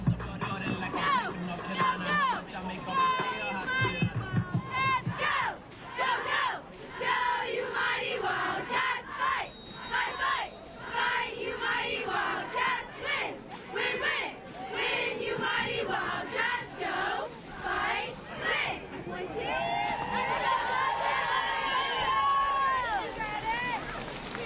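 High school cheerleaders perform a cheer at a Friday night football game, rhythmic shouted chanting in unison with bursts of crowd noise, closing in a louder sustained cheer and crowd roar.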